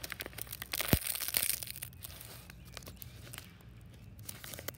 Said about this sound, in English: This is an old leaf that's very crunchy.